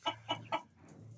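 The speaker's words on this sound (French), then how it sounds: "Et ce que vous entendez chanter, c'est ce coq-là." A cross-bred Pekin bantam rooster gives three short, sharp clucking calls in quick succession, fairly close, followed by a quieter murmuring sound at the end.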